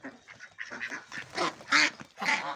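An American and Pekin cross duck quacks repeatedly at close range, with a few louder, raspy calls in quick succession.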